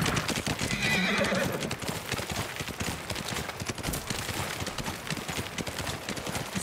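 In the video game Ghost of Tsushima, rapid hoofbeats clatter in a steady gallop while a horse whinnies loudly near the start, with a dense, busy backdrop.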